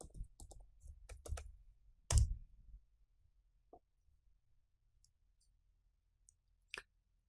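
Sparse computer keyboard keystrokes on a Windows 10 machine during a remote desktop login to Ubuntu Linux. A burst of close clicks comes first, then a few isolated taps spaced out over quiet, with no talking.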